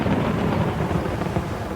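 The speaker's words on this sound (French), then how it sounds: "le tonnerre s'était mis à gronder" Low thunder rumbling through a storm with rain, a rolling, continuous growl that holds steady for a moment, with no voices.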